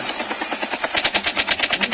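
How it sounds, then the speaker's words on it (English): Rapid automatic AK-47 fire in the Call of Duty Mobile battle royale mode, an evenly spaced, punchy burst of shots that grows louder and sharper halfway through, with no speech. "They're using AK-47."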